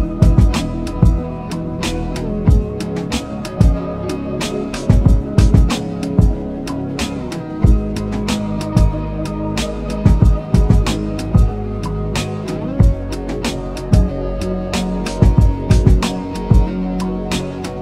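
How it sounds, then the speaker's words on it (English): Electric guitar sits beneath the chords of a polished FL Studio beat, blended into a loud, full mix with punchy drum hits landing in a steady rhythm throughout. "Added in this nice electric guitar to just sort of sit underneath the chords"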